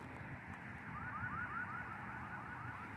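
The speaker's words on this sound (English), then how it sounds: "Alarm just went off over there." A car alarm goes off somewhere off at a distance, its rising electronic chirps repeating in a quick regular series over faint background hum.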